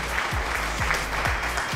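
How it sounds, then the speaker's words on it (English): Applause sound effect in a fantasy orc pit-fight game, a dense steady wash of crowd clapping with some low thumps, loud and continuous for under two seconds. "Round of applause."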